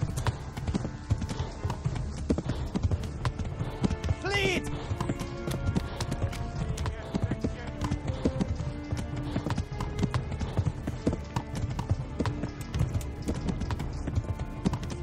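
A horse gallops in Kingdom Come: Deliverance during a chase, its hooves pounding in a fast, continuous clip-clop rhythm close by. A brief whinny rises partway through, over layered game sound.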